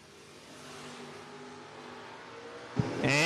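Drag racing cars, one a Camaro, rumble faintly at the line before a sudden loud burst of engine roar as they launch near the end.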